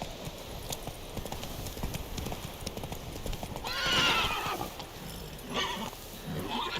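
Roach, Geralt's horse in The Witcher 3, gallops with rapid, even clip-clops and gives a loud whinny partway through, close up, with a voice speaking briefly.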